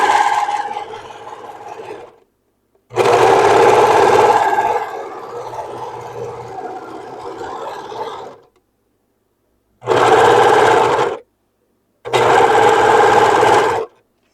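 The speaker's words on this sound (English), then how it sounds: "I'm going to stitch right down through here, pivot right here, and stitch right down through here" A sewing machine stitches a seam on a halter dress in several bursts of steady, rapid mechanical whirring, the longest slowing partway through, separated by silent pauses before two shorter runs.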